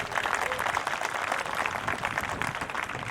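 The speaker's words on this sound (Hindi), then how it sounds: "सबके लिए एक बार जोरदार ताली बजा दीजिए" A dense, steady wash of audience applause from a crowd at a student event, sustained and fairly loud throughout with no clear gaps.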